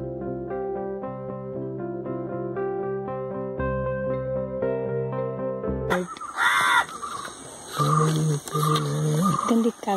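Harsh, repeated bird calls near a home vegetable garden, taken as crows calling. A few loud, scattered calls enter after several seconds of tonal music and sound close by.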